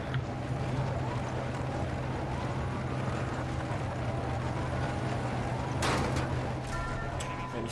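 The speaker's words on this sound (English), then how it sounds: "And this tank is really loud." A tank engine in a Call of Duty game mod gives a loud, constant low rumble throughout, broken near the end by a brief sharp crack.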